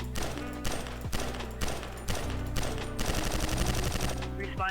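Carbine fire from a sound pack mod in GTA 5 rings out in rapid repeated shots, loud and close, forming a dense burst over continuous game noise.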